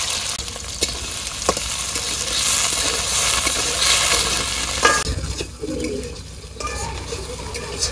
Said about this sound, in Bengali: কড়াইতে তেল দিয়ে দিলাম, চিংড়ি মাছ দিয়ে দিলাম,